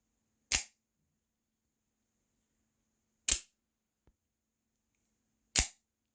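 A Kershaw Livewire automatic knife snaps open and shut, three sharp, loud clicks spaced a few seconds apart with near silence between them.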